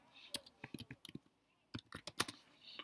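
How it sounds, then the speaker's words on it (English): Keys clatter quietly on a computer keyboard while data is entered into PSPP software, two short clusters of clicks separated by a brief pause, faint and close. "We type GEN for short, and in the label column, we'll actually type gender"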